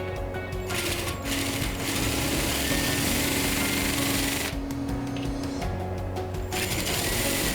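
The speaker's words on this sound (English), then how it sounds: "Started off by drilling the hole and then drilling it a little bit bigger." A power drill bores a hole through a piece of scrap wood to make a holder for a float switch, a loud steady whirring grind running without a break for several seconds.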